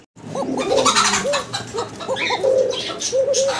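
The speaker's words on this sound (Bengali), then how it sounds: "মাশাআল্লাহ কোকা কি চমৎকার ডাকাটাই করতেছে" A domestic pigeon coos close by in a rapid series of soft, rolling calls over a few seconds, with light background chirps.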